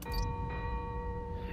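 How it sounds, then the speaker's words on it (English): A bell in the Spider-Man Miles Morales video game rings once, a clear sustained metallic tone with steady overtones fading slowly over about a second and a half, faint and alone. "It's the bell."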